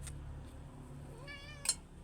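A pet cat gives a single clear meow near the end, rising then falling, close and fairly loud over a low steady background hum.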